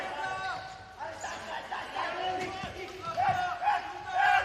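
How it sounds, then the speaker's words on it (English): Players on the Italian basketball bench cheer and shout in a raucous burst during a game against Australia. Their voices rise and fall over court noise and crowd chatter, and a commentator can be heard talking throughout. "It's plenty of raucous cheering from the Italian bench."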